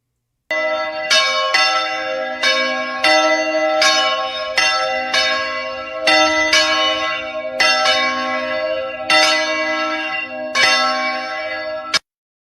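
Church bells ring in a repeated series of loud, clear strikes, each tolling tone sustaining and overlapping the next with a rich ringing hum between peals; no talk is heard.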